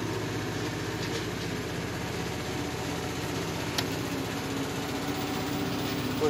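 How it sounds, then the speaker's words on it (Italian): A neighbour's tractor engine runs steadily at a distance, a low continuous drone with rhythmic pulsing, heard alone at moderate level in an outdoor garden setting. "questo rumore del mio vicino con il trattore, non sono io"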